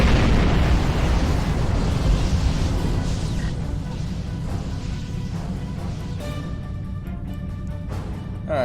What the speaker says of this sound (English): One more torpedo should do it.